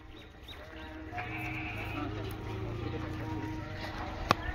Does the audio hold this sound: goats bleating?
yes